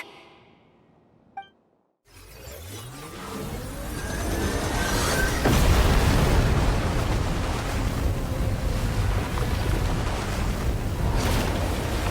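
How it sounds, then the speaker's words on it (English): Ground shaking in a video game: after a near-silent moment and a single faint blip, a deep rumble swells up and holds as a loud, dense roar to the end. "The ground, it's shaking!"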